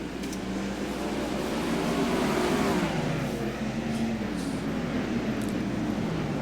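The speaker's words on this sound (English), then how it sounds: "Trevor Royer, first car to the low side of the speedway." Race car engines roar steadily at close range, a continuous loud drone with shifting pitch as the cars run past together.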